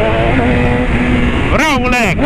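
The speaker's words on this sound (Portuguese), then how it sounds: "Se liga o jeito que a BM tá pipocando" BMW S1000 motorcycle at speed, its exhaust roaring steadily up close with a rising rev and sharp crackling pops near the end, while a rider talks over the engine.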